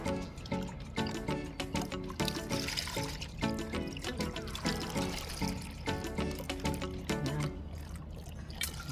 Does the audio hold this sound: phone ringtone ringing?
no